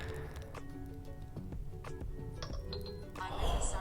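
A short, bright electronic Siri activation chime on an iPhone 4S rings out near the end, following a few faint clinks and taps, with low background rumble.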